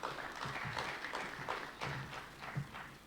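Audience applause at a business competitiveness summit, a moderate, steady wash of clapping from a crowd with scattered louder claps, sustained for a few seconds at medium distance.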